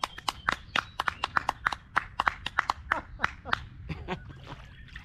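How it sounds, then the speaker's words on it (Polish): A small group claps to cheer a man named Romek during a casual fishing talk. The claps come as a sparse, irregular run of sharp slaps at moderate volume, with a little talk mixed in. "Brawa dla Romka!"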